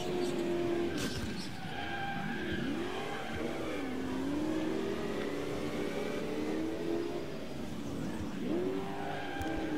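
Racing-game car from Cobra 11 Highway Nights skids and spins out, steady engine roar with repeated sweeping tire squeals that rise and fall throughout, loud and continuous with no talking.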